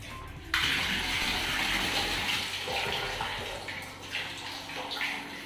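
Tap water gushes into a bucket for a bath, a loud steady splashing rush that starts abruptly and continues close by.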